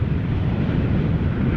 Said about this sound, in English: Saudia cargo, the last airplane of the day, 28-year-old airplane, about to touch down on center